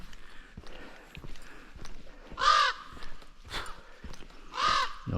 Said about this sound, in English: Crow up there's making a lot of racket.